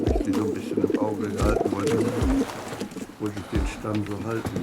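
Racing pigeons coo repeatedly nearby in low, throaty bursts in a pigeon loft, with people talking over and between the calls.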